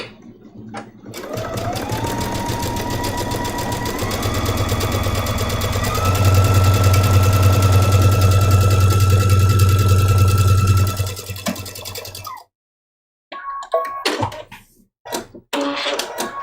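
A sewing machine stitching a pumpkin trivet mini quilt, a loud, close, steady whirring hum that shifts up in speed partway through, then stops abruptly and gives way to a few scattered handling clicks and rustles.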